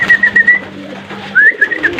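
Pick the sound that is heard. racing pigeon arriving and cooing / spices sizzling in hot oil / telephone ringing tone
racing pigeon arriving and cooing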